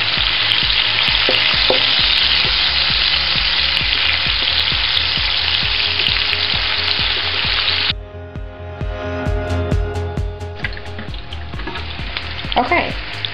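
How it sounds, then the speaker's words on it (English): Onions, garlic and ginger frying in a pan for shrimp and broccoli, a loud, dense sizzle for several seconds before it drops to a softer, crackly frying with scattered stirring clatter. "I'm going to stir this up."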